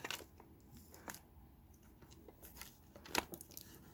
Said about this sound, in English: Hold on, let me tear this paper off.